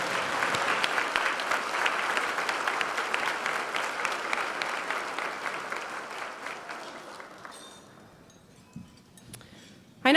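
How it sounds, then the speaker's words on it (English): Applause at a charity luncheon for the Respite Care board of directors and funding committee: a room full of clapping that fades gradually, leaving scattered claps, faint clinks of dishes and murmurs at the end. "Please give these folks a well-earned round of applause."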